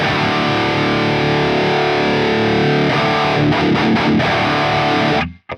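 Heavily distorted electric guitar played through a Fortin NATAS pedal into a Marshall JCM-2000 amp, a dense loud sustained chug with a few choppy rhythmic stabs near the end before cutting off abruptly.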